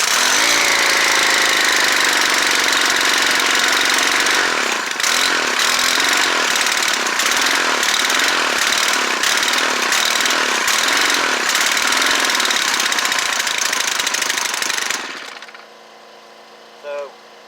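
A Stihl FS90R string trimmer with a newly fitted HIPA carburetor and its choke on roars loud and close after a pull start, running hard for about fifteen seconds before suddenly cutting out into near silence, with one faint knock after.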